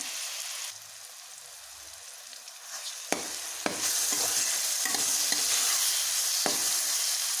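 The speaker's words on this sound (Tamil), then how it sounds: "நான் வாழைப்பழத்தை இதில் போட்டு நல்லா விதைக்கிடுவோங்க" Bananas fry in oil in a pan; a quieter start gives way to a louder steady sizzle as they go in, punctuated by several sharp spatula scrapes, close-up with no voices.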